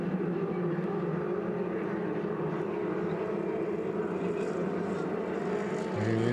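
F2500 racing powerboats roar through the second turn of a heat at St-Félicien, a steady, loud, droning engine whine that holds throughout with no break, heard from a distance over open water.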